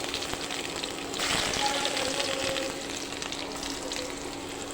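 Ginger and garlic sizzle and fry in hot oil in a pan, a steady close crackling hiss that swells briefly partway through before settling back to an even sizzle.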